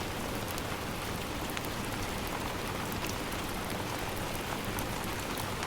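Steady rain falls outside as an ASMR roleplay backdrop, a dense, even hiss of drops on surfaces that holds constant and fairly soft throughout, with no voices.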